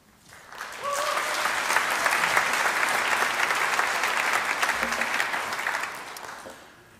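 An audience at a Calvin University worship service breaks into applause, a dense, sustained round of clapping that swells in, holds for several seconds and then fades out.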